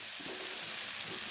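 Fried potatoes land in a pan of sizzling tomato masala for matar nimona, giving a steady close frying hiss with gentle stirring and no talk.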